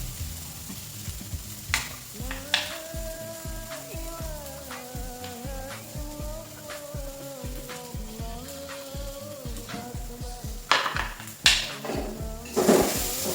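Tongseng spices are stirred and turned in a pan with repeated scraping and knocking of a utensil against the metal over a constant sizzle, with louder clanks near the end.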